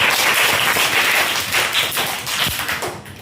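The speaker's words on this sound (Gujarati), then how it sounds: "આના માટે બી તાળીઓ થઈ જાય." A class of students claps for a classmate in a maths lesson, a loud burst of quick overlapping claps close by that keeps going for about three seconds and then thins out toward the end.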